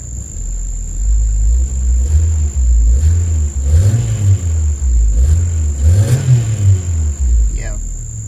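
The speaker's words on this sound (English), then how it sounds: "I'm going to give it a few revs." A Toyota car with a stalling and hesitation fault revs its engine in a few rising and falling bursts. The rumble is close and steady throughout, with a high constant whine running over it.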